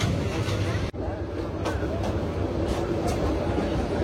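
The Mahanagar Godhuli Express rolls between Brahmanbaria and Dhaka, heard from on board as a steady, loud broadband rumble of the carriage in motion with no voices.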